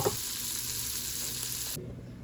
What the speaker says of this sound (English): So while the onions are cooking and are frying